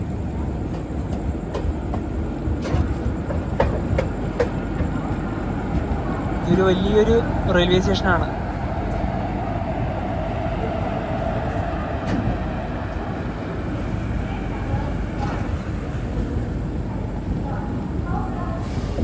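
Tatanagar Express train rolls into Sambalpur Junction with a continuous low rumble and faint wheel clatter, while someone talks over it; a brief squeal surfaces midway.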